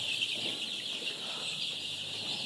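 Chickens on a poultry farm, just vaccinated and recovering from a health problem, make a dense, continuous chorus of soft clucking and chirping that sounds fairly close and steady.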